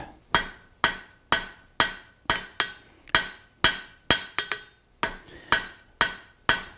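A heavy hammer forging a taper in hot steel fresh from the forge, striking about a dozen loud, ringing blows at a steady rhythm, each sharp hit decaying quickly before the next.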